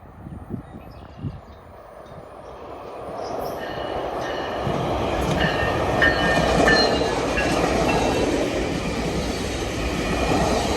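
A passenger train pushed by an MP40 locomotive with six passenger cars approaches and rolls past, its rumble swelling to a loud, sustained roar with rhythmic wheel clatter, after a few faint thumps at the start.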